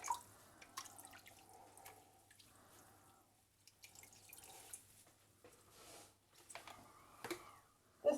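Soft splashes and drips of water as a dyed yarn skein is rinsed, faint and intermittent, with small trickles and occasional taps against a quiet background.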